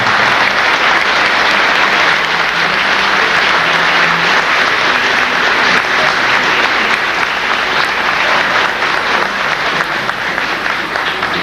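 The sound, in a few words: audience applause for former employees at a museum reopening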